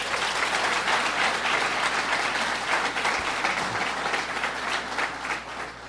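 An audience at a state governor's budget tour event in Syracuse claps steadily for several seconds, a dense, even wash of applause with no talking over it.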